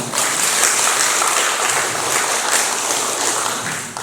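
Steady audience applause fills a Korean association's general assembly and award ceremony as an appointment is announced, a dense, even wash of many hands clapping at close range with no voices standing out.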